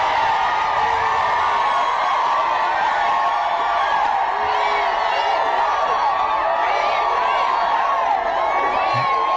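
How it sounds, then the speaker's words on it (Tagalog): A rally crowd cheers and shouts without pause, a dense wash of many voices and whoops holding steady and loud throughout, with scattered claps and individual yells rising above the roar. "Grabe yung hiyawan ng mga tao."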